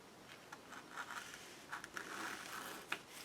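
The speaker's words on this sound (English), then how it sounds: "I'm just going to go around the tag like that with my X-Acto and cut her out" An X-Acto knife cuts around a paper tag in an altered book, giving a quiet run of short scratchy strokes and scrapes with small bursts, close and faint, no voices.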